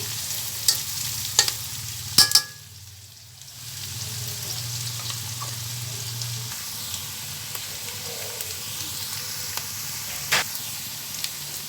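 Vegetables stir-frying in a teaspoon of ghee for restaurant-style chicken vegetable fried rice give a steady, close sizzle, broken by a few sharp clanks of a spatula against the pan near the start and later.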